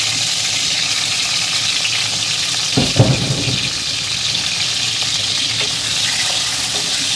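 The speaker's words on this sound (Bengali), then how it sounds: "এবার আমি এই তেলের মধ্যে, তেলটা আমার গরম হয়ে গেছে, মাছটা আমি ভেজে নেব।" A bhetki fish head fries in hot mustard oil, making a loud, dense, unbroken crackling sizzle, with a brief burst of spattering near the middle.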